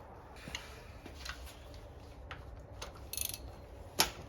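Stuck bolts on a 1985 Foxbody 5.0 being worked loose with a wrench give soft ratcheting clicks and small metallic ticks, ending in one sharp crack as a bolt breaks free.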